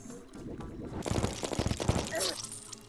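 Rapid weapon fire in Terraria on Master Mode, a fast rattling stream of shots starting a second in and running on loudly for about a second and a half, with a voice in German at moments.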